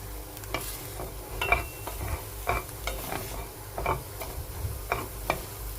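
Paneer roasts in a pan under a soft sizzle, while a spoon scrapes and taps against the pan in a series of sharp, irregular stirring clicks, close and fairly quiet, with no voices.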